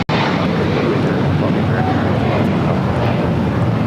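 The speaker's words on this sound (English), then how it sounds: "1923 taking off to Orlando on the A321." An American Airlines A321 takes off at LAX, a loud, continuous engine roar with wind buffeting the microphone, starting abruptly and holding steady throughout.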